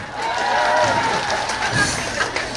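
An audience at an evening chrysanthemum festival show in Iksan applauds steadily, a moderately loud clapping texture with some crowd voices blended in.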